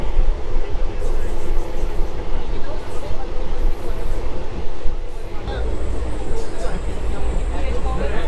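A local train running from Delhi to Gurugram rumbles along steadily with a continuous rolling clatter and a high metallic whine, while a person speaks over the noise.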